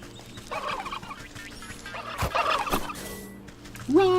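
Turkey gobbling in the Wytchwood video game, several bursts of loud gobbles over a steady background music drone, ending with a rising squawk.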